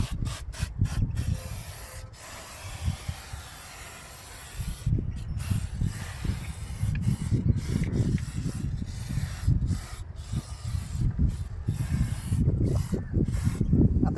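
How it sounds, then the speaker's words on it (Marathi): Ratshield rat-repellent aerosol sprayed onto cables and hoses in a vehicle engine bay, a steady close hiss with short pauses between bursts, alone without talk. "बघू शकता मित्रांनो, खूप इझिली स्प्रे होतो आहे."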